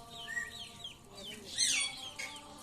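A hen clucks in a household yard where a pet parrot is kept, giving a few short clucks and then a louder burst of squawky calls, close by, with scattered bird chirps mixed in.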